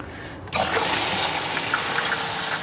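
Water gushing loudly and steadily into a 5-gallon bucket, starting abruptly after a brief quiet moment and continuing as a full, splashing fill.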